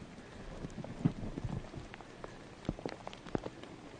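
Rain falls outdoors in a light, steady patter with scattered close drops and a few sharper taps against a surface.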